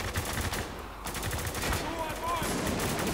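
Gunfire in Spec Ops: The Line with a sniper rifle in hand, sharp shots cracking over a dense battle din while someone talks in Russian.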